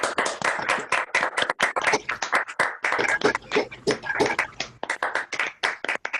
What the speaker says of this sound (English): let's have a big round of applause for all 5 speakers